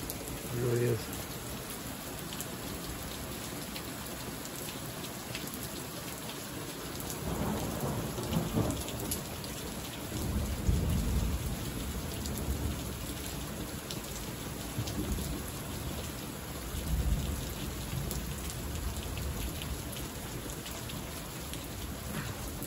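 Steady rain falls during a thunderstorm in Big Bear, California, pattering on surfaces while deep rolls of thunder rumble in more than once; a voice is briefly heard.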